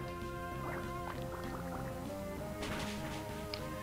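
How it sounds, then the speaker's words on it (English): A Water Gun attack in Pokémon Emerald, a short retro chiptune splashing burst with bubbly watery blips over the looping battle music. "So I'm gonna lead straight off with a Water Gun."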